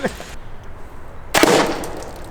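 Balloons burst during a balloon-popping contest: a sharp close pop at the start and a louder crackling burst midway, with quiet room noise between.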